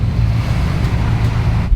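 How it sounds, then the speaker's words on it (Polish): Wind buffets a boat out at sea near the Tubbataha reefs, a loud, continuous low roar of gusts across the microphone with wave wash beneath and no speech. "Trochę wieje, ale mam nadzieję, że będzie w miarę dobrze słychać."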